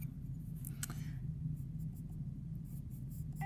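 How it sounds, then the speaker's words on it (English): A dark charcoal pencil scratches and strokes across tinted paper, a close, steady soft rasp with a few sharper ticks and brief pauses between strokes. "we're gonna go back in with the darkest of our charcoal pencils"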